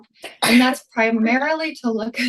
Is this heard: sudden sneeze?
yes